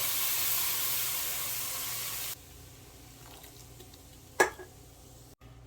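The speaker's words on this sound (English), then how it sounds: "Add your can of beer." A can of beer poured into a hot cooking roux for pretzel cheese sauce gives a loud, steady sizzling hiss that cuts off sharply, followed by quieter bubbling and a single clunk.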